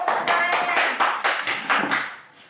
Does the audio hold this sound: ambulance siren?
no